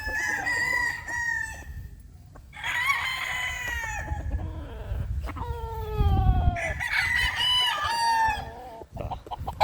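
Roosters crow repeatedly, loud and close, amid scattered clucking from a flock of chickens.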